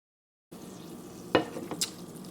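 After a brief silence, butter heating in a pan on medium-high heat starts a soft, steady sizzle, broken by a couple of sharper clinks and taps, fairly quiet and with no voices.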